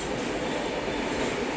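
An LHB-coach train rolls across a long road-cum-rail bridge, giving a steady, broad rushing rumble of wheels and wind from on board, with no one talking.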